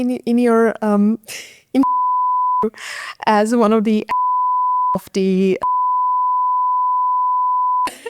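Voices talk in short bursts while a steady, loud tonal beep cuts in three times, masking stretches of speech.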